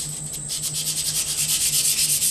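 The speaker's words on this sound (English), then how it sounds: "I got some sandpaper. I'm going to start with 150" Sheets of 150 grit sandpaper rasp along a steel sword blade in quick, even back-and-forth strokes, a close and steady rhythmic scratching with no talking.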